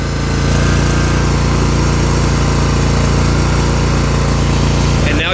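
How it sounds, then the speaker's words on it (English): A zero turn mower engine runs loud and close in a steady, continuous drone after starting, holding an even roar throughout with a short rattle near the end. "And now your mower starts."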